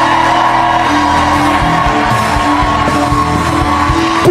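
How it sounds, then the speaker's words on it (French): A church congregation shouting cries of victory, a dense, loud roar of many overlapping voices that continues without a break. "poussez des cris de victoire là où vous êtes."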